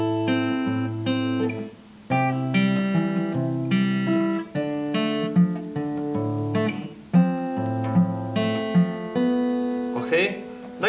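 Solo guitar plays a melodic line, mixing open strings with fretted notes in a steady rhythm of plucked single notes and short phrases, close and clear with small gaps between phrases.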